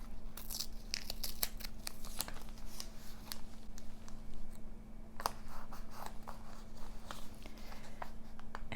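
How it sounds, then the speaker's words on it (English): Paper being slowly ripped by hand for a journal page, a string of close crackling tears and rustles over a steady electrical hum, with no talking. "I think I'm gonna rip it just for that effect"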